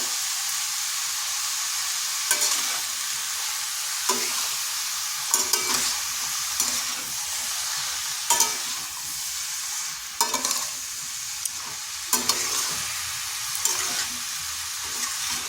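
Salted bottle gourd with spices fries in a pan, producing a continuous close sizzle broken every couple of seconds by scraping stirring strokes and light clatters.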